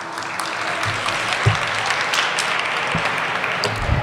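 Audience applause for Farhiya and Abdurrahman at a recovery-themed gathering, a steady dense wash of clapping across the whole stretch with a few sharper claps and faint voices underneath.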